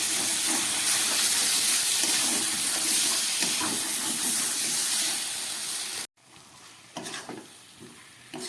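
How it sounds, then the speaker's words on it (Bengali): Potato and prawn curry sizzles and hisses steadily in the pan as spiced water goes in, a loud bubbling frying sound that cuts off abruptly, followed by quieter intermittent simmering. "একটু মশলার জল দিয়ে দিলাম।"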